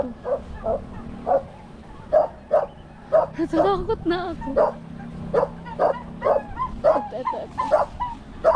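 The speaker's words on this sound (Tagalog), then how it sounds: "Ay, may aso." A dog barks and yips in a rapid, repeated series of short, fairly close calls with a few whimpers mixed in, while someone speaks nervously over the barking outdoors near a duck and fish pond area.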